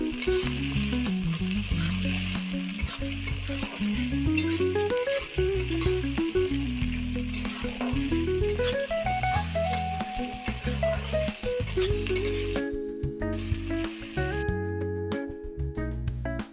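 Sliced onions with a spoonful of salt sizzle and crackle steadily in a hot pan for a Bengali prawn malaikari, loud and continuous, with occasional stirring scrapes and no talking.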